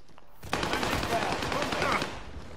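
Enemy automatic gunfire in the video game Warzone on Rebirth Island, a dense burst of rapid shots starting abruptly and sustained for about two seconds at close range, with a voice faintly present.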